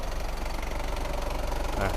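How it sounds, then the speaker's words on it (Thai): An Isuzu Dragon Power pickup's direct-injection diesel engine idles close by with a steady, rapid knocking clatter and low rumble, unchanging throughout. "ฟังเสียงเครื่องยนต์นะครับ"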